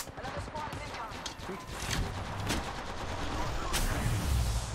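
Gunfire in the mobile battle royale game Apex Legends Mobile, a burst of sharp shots in the first seconds followed by a rumbling mix of game noise, with someone talking over it.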